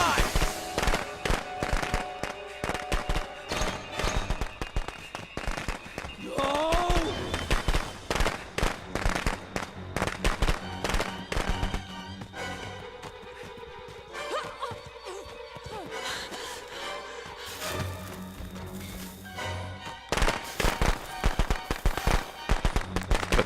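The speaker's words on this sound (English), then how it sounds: "Put 2 fireworks on, just for the heck of it." Fireworks going off in Friday the 13th: The Game, a dense string of rapid crackling bangs and pops repeating through the clip, loud and close, with game sounds and brief voices mixed in.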